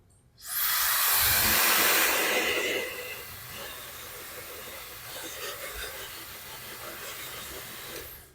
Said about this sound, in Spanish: Que también tienen su secadora a la mano.